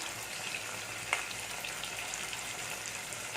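Onion, tomato and ginger sauté in a pan with a soft, steady sizzle and crackle, one brief clink of a utensil midway, with no talk.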